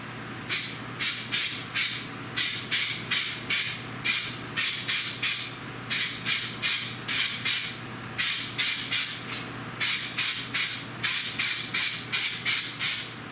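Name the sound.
spray can spraying a bedliner-like coating on climbing sticks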